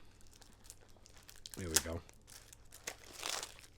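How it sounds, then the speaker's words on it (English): Plastic packaging around a cassette tape crinkles and rustles as scissors cut it open, close and fairly loud, with a short spoken phrase in the middle. "Let's get these scissors involved."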